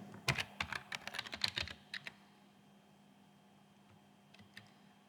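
Quick run of keystrokes on a computer keyboard as a password is typed, close and crisp for about two seconds, followed by a few sparse faint taps in a quiet room with no voices.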